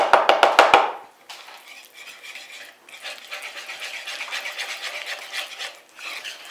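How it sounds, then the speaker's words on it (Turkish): Butter and egg yolks being whisked together in a bowl for Starbucks-style cookies: a brief burst of clinking strokes, then a continuous soft, rhythmic scraping and stirring. "Önce tereyağı ve yumurta sarılarını çırpıyoruz."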